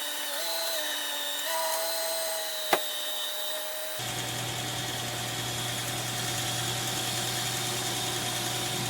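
A 2011 Subaru Outback with a 5EAT automatic transmission cranks briefly with a sharp click, then settles into a steady, even idle hum, close and continuous for several seconds.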